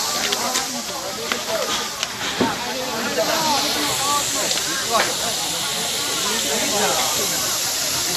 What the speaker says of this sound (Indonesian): Warga masih berusaha memadamkan api dibantu dengan pemadam kebakaran dan anggota polisi yang turun